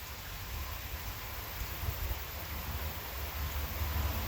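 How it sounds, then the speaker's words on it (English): Rain falling late at night around eleven o'clock, a steady, even hiss that holds at a constant moderate level throughout with no voices. "Yeah, here comes the rain."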